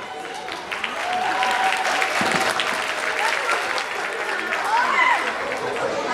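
An audience in a school district gathering breaks into sustained applause, clapping building after the first second and continuing loudly to the end with some crowd noise.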